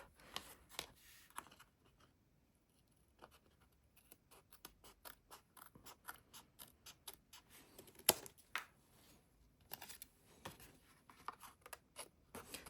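Scissors trim craft paper in a run of quiet, crisp snips and clicks, close by but faint, bunched in irregular bursts with short pauses.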